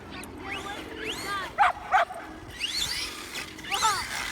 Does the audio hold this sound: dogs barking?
yes